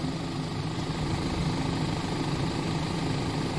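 A repaired 2013 Audi Q5 2.0T TFSI engine, fresh from timing chain and cylinder head work with new valves, idles steadily close by, a smooth continuous low rumble with an even hum and no talk.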